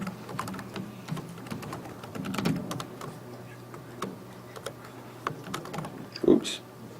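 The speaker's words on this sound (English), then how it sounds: "My typing skills aren't what they once were." Someone types on a computer keyboard in scattered bursts of light clicks, close and fairly quiet, with a louder tap near the end.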